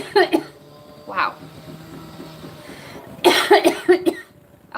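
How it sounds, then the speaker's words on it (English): Someone coughs after smoking a fuel-scented cannabis concentrate: a short cluster of harsh coughs, a single cough, then a louder run of several coughs close to the microphone. "they do make me cough, which is something that doesn't happen very often"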